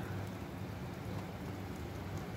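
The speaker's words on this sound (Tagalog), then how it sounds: "Ayan, umuulan siya." Steady rain falls in the UAE throughout, a dense, even patter with no voices, moderately loud and close.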